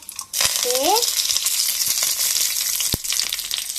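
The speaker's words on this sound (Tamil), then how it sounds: "எண்ணெய் நல்லா காஞ்சிச்சு. இப்போ கடுகு போடணும்." Mustard seeds and lentils fry in hot oil with a loud, continuous sizzle, with sharp crackles and a few spoon scrapes while stirring, close up.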